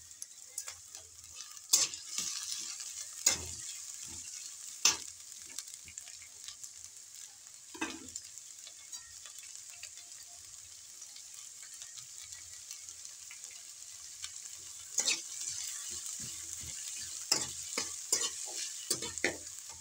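Chopped onion and green chili frying in a pan, a soft continuous sizzle punctuated by a dozen or so sharp spatula clacks and scrapes at irregular intervals, close by and with no talking.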